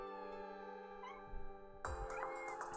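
A cat meows in a video game with a weapons datapack: a few clear, close meows with rising and falling pitch over a quiet, steady background tone.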